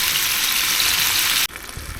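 Cheap Safeway beef frying in a skillet, a loud, steady, close hiss that cuts off abruptly, leaving a softer crackle and a few small knocks.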